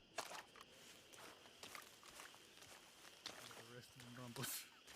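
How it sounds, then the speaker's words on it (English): Soft footsteps scuff and tap in an uneven rhythm during a Red Dead role-play game, faint and close, with a few sharper taps and a brief higher rustle near the end. "Thought I heard footsteps."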